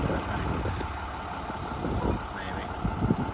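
A 2011 International Durastar moving truck backing up, its steady engine rumble close and constant, with faint intermittent reversing beeps and a hiss of air brakes over it.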